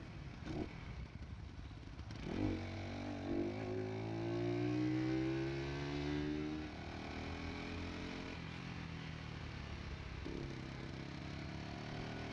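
A Skyteam Tracker 125 motorcycle engine hums steadily as it rides through the city, with the pitch rising and falling through gear changes and light acceleration.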